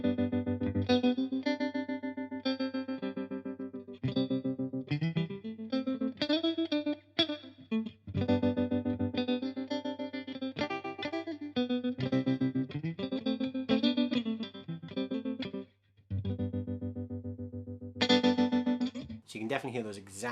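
An electric guitar plays through an MXR M305 tremolo pedal with speed and depth at maximum, its chords chopped into rapid, exaggerated pulsing swells and drops, loud and sustained with brief pauses between phrases.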